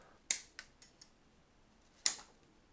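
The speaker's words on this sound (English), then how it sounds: "grab a big pair of scissors and just hedge prune it to a dome shape" A few sharp scissor snips pruning a Chinese elm bonsai, one hard cut followed by quieter trailing clicks, then another crisp snip after a pause, close and isolated.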